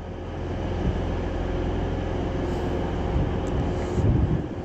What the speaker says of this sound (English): coming in down there is a Metrolink tram off to, I think that says Manchester Piccadilly